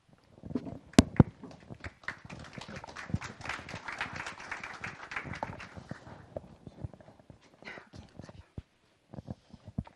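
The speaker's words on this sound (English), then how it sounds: "If we get a round of applause, thank you." An audience at a startup panel discussion claps, swelling into dense applause that thins out into scattered individual claps.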